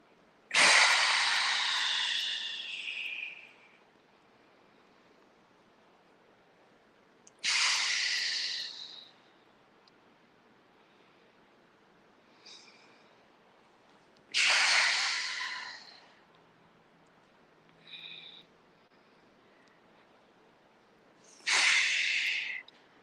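Slow, deep breaths during a tai chi exercise, four long airy exhales through the nose spaced several seconds apart, close and soft, with faint shorter breaths between them.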